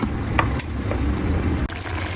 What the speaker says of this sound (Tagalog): Yan, ang kumulo.